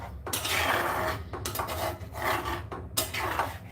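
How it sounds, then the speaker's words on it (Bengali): Dudh chitoi pitha is stirred into milk in a pot, a spoon scraping and rasping against the metal in a few long, rhythmic strokes, close and fairly loud with no voices. "আমি দুধকুলি পিঠাগুলি সুন্দর করে ঢেলে দিচ্ছি তারপর দুধের মধ্যে একটু নেড়ে চেড়ে"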